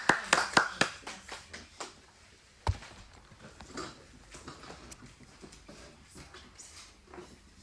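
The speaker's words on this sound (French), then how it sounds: "Moi, je t'applaudis bien vu, hein?" A small group claps in a youth teaching session at a Christian gathering, a handful of loud close claps opening the clip before thinning into sparse, softer irregular claps with one sharp knock midway.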